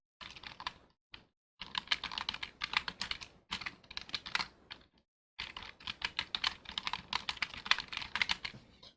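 Rapid typing on a computer keyboard during a PowerPoint exam exercise, steady bursts of close, crisp keystrokes separated by short pauses, with no talking.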